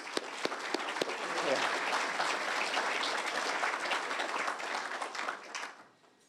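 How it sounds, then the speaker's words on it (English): Audience applause at a congressional education awards ceremony: a few sharp early claps swell into a full, steady round, then taper off and fade near the end. "Let's give her a round of applause."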